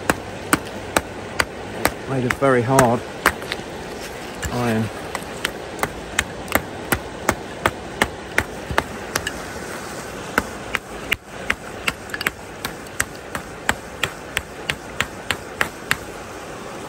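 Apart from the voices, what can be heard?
two old rusty hammers struck together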